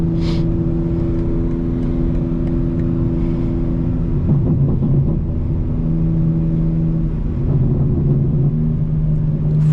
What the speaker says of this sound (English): You can hear the burble even with the windows up.